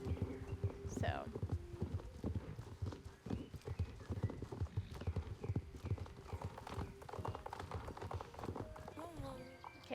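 Horse hooves clip-clop steadily in the Star Stable riding game as the horse heads up a hill, a continuous rhythmic trot with a brief whinny early on and light game sounds mixed in.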